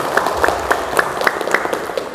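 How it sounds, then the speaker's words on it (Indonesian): An audience at an Indonesian business presentation seminar breaks into applause, a moderately loud, rhythmic patter of clapping with regular sharp claps standing out over a steady crowd wash. "tepuk tangan Abi Darwis."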